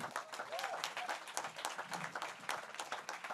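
A stand-up comedy festival audience applauds to welcome a comedian on stage, a dense, lively round of clapping with scattered individual claps standing out and crowd murmur underneath.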